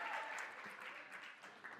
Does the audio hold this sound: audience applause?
yes